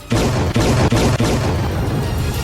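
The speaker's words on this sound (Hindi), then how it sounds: "इस सैन्य अभ्यास का जो वीडियो सामने आया उसमें खतरनाक लड़ाकू विमान आसमान से बमों की बारिश करते दिखे।" Heavy, continuous rumbling booms roll on loudly as fighter jets drop bombs in a military drill, with a few distinct thuds punctuating the deep roar of explosions.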